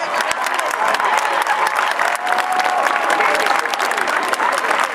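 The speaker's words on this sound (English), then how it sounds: "Another round of applause for our student performance here this afternoon." Audience applause and some cheering for a student marching band performance at an awards event, a dense, steady clapping crowd heard close and loud throughout.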